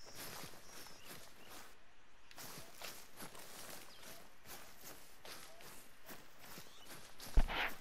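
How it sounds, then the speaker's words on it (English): Animal footsteps in the hunting game theHunter: Call of the Wild, a faint steady run of soft repeated steps with a sharper thump near the end. "Bro, where's the footstep go?"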